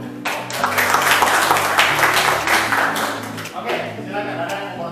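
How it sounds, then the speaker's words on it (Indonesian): Classroom audience applauding after a student group presentation in an Indonesian lesson, a dense steady wash of clapping with voices chattering underneath, tapering slightly toward the end. "sebelum bertanya tepuk tangan dulu"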